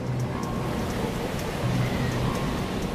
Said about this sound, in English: Supersized waves have, occasionally, even been captured on film.